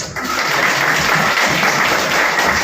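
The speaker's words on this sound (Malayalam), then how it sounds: "അതിനെനിക്ക് നല്ലൊരു കയ്യടി തരൂ പ്ലീസ്" Audience applause at a JCI Palakkad Fort installation ceremony, steady and dense clapping filling the hall at full volume for nearly three seconds after a brief opening.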